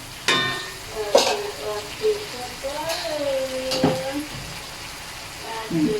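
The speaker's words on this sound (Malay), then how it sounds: "Kita tumis lagi sampai dia terbit minyak. Sampai rempah ni masak." Homemade nasi komok spice paste sizzling and frying in a pan until the oil separates, with scraping stirs and a voice talking over the steady crackle.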